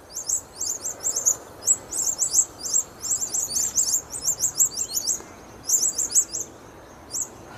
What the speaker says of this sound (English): There's a whole series of other honey eaters here as well.